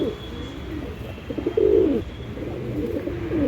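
Close pigeon cooing from birds kept for sale, with a few soft rolling coos and one louder throaty call in the middle, over low background hum.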